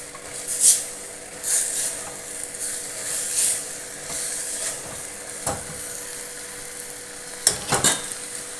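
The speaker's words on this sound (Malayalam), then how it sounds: "മഞ്ഞൾപ്പൊടിയും കൂടി ഇട്ട് നല്ലപോലെ ഇളക്കുക" Turmeric powder being stirred into chickpea curry in a pan: a steady low sizzle with repeated scraping strokes of the spoon, close and moderately loud, no talking.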